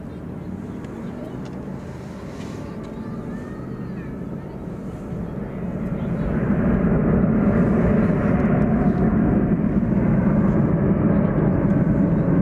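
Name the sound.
American Airlines Airbus A321 departing DFW Airport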